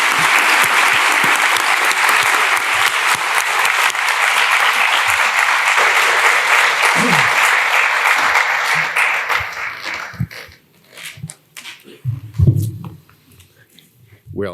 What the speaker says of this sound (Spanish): démosle un aplauso y escuchemos al profesor.